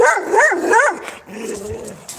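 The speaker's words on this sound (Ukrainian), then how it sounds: "Собака." A dog gives three quick, close, high barks in a row, followed by a quieter whining sound, with no one speaking.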